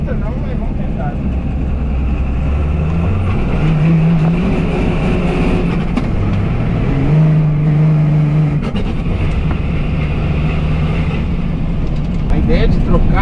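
Cummins 6BT diesel engine in a Ford F-350 revving steadily and close, its low rumble rising and falling over a continuous idle, with voices talking over it.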